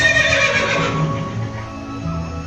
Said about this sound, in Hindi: जन्म के वक्त अश्वत्थामा के रोने की आवाज घोड़े के हिनहिनाने जैसी थी